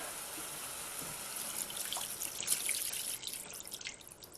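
Water poured and trickling into a cooking pot while making chicken pie in a dining car kitchen, a steady splashing flow with drips, close and fairly quiet.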